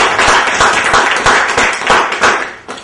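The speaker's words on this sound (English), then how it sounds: "Come on, guys, let's give a round of applause." A small seminar audience clapping, loud and close, with individual hand claps audible within a brisk, uneven patter lasting a few seconds before tapering off.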